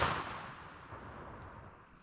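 A long shotgun blast in a video game: one loud burst at the start that decays into a broad, noisy rumble lasting about two seconds, with no talking.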